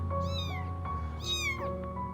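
A trapped cat meows twice, two clear, rising-and-falling cries close by, separated by a short pause, over a low steady background hum.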